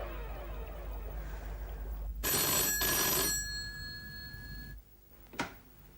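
An old telephone rings in a house, two loud electric bell bursts separated by a brief gap, followed by quieter room tone and a short sharp click.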